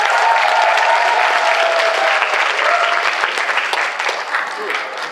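A convention crowd applauds cosplayers dressed as a Knight and a Mage from Magic the Gathering at a cosplay competition, with loud, sustained clapping and a few cheers that gradually thin out.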